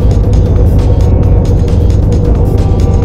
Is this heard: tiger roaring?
no